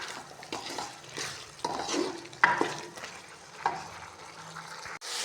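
Potato and eggplant pieces fry in hot oil for an aloo baingan curry while a spoon stirs and scrapes the pan, giving a close sizzle broken by irregular clinks and scrapes.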